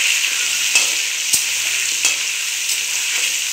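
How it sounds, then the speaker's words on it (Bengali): Potato pieces seasoned with turmeric and salt fry in hot oil for a simple chicken curry, giving a steady, close sizzle broken by a few sharp clicks and scrapes of stirring, with no voices. "এবার আলুটা ভেজে নেব লাল লাল করে।"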